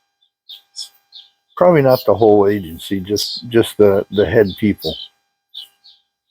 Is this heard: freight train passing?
no